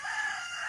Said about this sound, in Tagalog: May mga chicken. May chicken ay manok na. Mga manok.